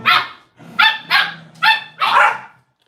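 A collie barks in five loud, close bursts, some rising into excited yips, with short gaps between them and no talk over the barking.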